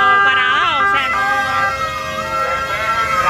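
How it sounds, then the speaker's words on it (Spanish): A loud ambulance siren wails up and down close by in Cuba, its rising and falling tones cycling over steady road noise. "eso es una ambulancia"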